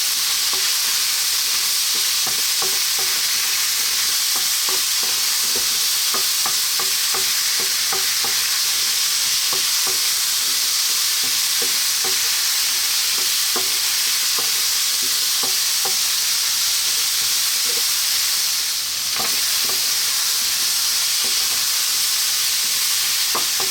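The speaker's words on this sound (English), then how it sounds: "We're going to add our cooked chickpeas. We're going to give this a stir" Cooked chickpeas frying and being stirred in a hot pan with spices, a steady close sizzle with frequent scraping and clattering stirring strokes throughout, no talk.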